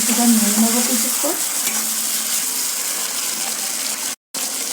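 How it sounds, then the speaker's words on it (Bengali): Chopped tomatoes sizzling and frying in hot oil in a pan, a close, steady hiss with some stirring, briefly broken by a short silence near the end. "তো এর মধ্যে এবার আমরা দিয়ে দেব কেটে রাখা টমেটো কুচি।"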